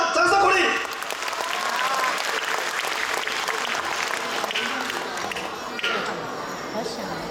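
An audience at a kindergarten performance event applauds a former township chief, dense clapping that starts loud and continues steadily, with talking mixed into the crowd noise.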